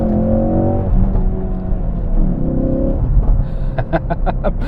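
A 2016 Ford Focus RS in sport mode, its engine droning steadily at first, then a burst of sharp, rhythmic exhaust pops or revs near the end, loud and close with no talk.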